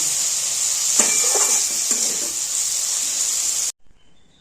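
Masala bhindi (okra) with coriander leaves stirred in a pan: a steady close sizzle with a few scraping stirs, then cutting out abruptly near the end.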